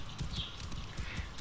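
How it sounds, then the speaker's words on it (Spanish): Horse hooves clip-clop in a steady, close rhythm while riding across a desert-like video game world, a soft ambient tone running beneath. "Monto un caballo para llegar"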